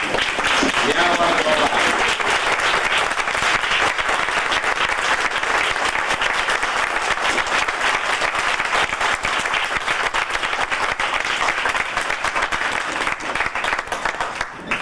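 An audience applauding kitchen staff at a gathering, sustained loud clapping from a large crowd that carries on evenly throughout, with voices and cheers mixed in underneath.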